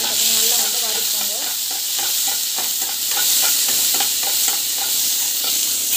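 Chili and onion sautéing in a pan, a loud close sizzle with a rapid run of spatula scrapes and clatters against the metal, dense and continuous throughout.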